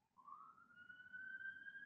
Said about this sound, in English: Sounds like there's some sirens.